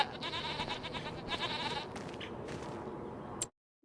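Goats bleat in the farming video game Farming Simulator 25, several overlapping calls in a dense, steady chorus that stops abruptly near the end.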